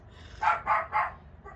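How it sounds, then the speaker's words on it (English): A pet dog barking indoors, a quick run of three close, moderately loud barks followed by a softer fourth, heard alone in a quiet room. "he decided to go nuts right now."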